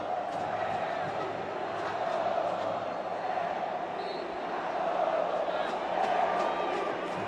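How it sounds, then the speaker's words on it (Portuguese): Vasco supporters in a packed stadium during a Carioca championship semifinal against Flamengo chant in a sustained, rolling crowd roar, distant and swelling in waves, with a commentator's voice over it. "O torcedor do Vasco já solta um grito aí de eliminado"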